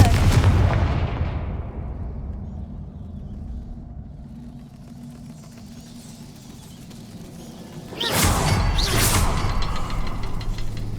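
Confringo fire spell blasts in the Hogwarts Legacy video game: a loud, booming burst opens and slowly fades, then a second sharp, forceful blast hits near the end and rumbles on.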